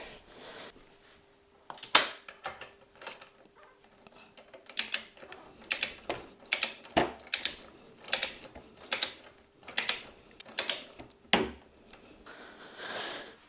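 A torque wrench ratchets as engine guard bolts are tightened on a Yamaha Tracer touring motorcycle, giving repeated sharp clicking bursts at a fairly steady pace, close and crisp in a quiet space with no talking.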